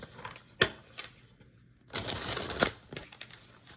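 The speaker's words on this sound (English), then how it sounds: "So let's get a good shuffle in" Tarot cards being shuffled close up in a quiet room, with short riffling bursts, a soft slap, and a longer rustling shuffle in the middle.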